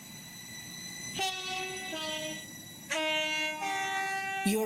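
A train in the Roblox game Stepford sounds its horn in repeated loud, sustained blasts at Stepford East station, with several horn calls separated by short gaps over a quiet rumble.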